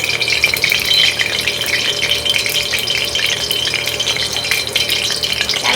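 Oil heats in a pan for crab curry, giving a steady, close crackling sizzle with a busy, fizzing bubbling that continues throughout and has no talk over it.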